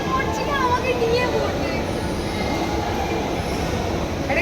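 A metro train runs through Howrah metro station with a loud, steady rumble and some thin wheel squeals, while voices murmur underneath.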